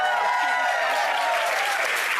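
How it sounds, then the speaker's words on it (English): A studio audience on a Canadian daytime talk show applauds steadily, a dense wash of clapping that holds at an even level throughout without a break. "Another round of applause for you."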